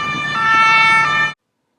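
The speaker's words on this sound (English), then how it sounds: "So that was a short siren" A short recorded siren plays back loud and steady, with a bright tonal wail and harmonics for just over a second, then cuts abruptly to silence.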